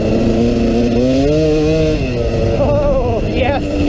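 KTM 300 two-stroke dirt bike with a Red Power Valve spring, revving on a trail: a loud, close, rising and falling crackly engine note that climbs in pitch in bursts and stays continuous throughout.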